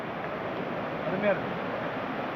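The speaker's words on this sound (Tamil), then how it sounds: "அருமையான ஃபால்ஸ் பாருங்க தண்ணி ஓடிட்டு இருக்கு பயங்கரமாக" A waterfall roars as a steady wash of rushing water, with a faint voice briefly audible beneath it.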